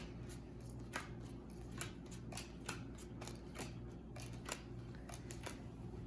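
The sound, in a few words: dealing out playing cards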